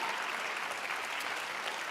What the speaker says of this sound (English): One more time, a round of applause, everybody, for our first place winners